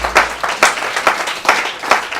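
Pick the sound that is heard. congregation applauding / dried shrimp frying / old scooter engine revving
congregation applauding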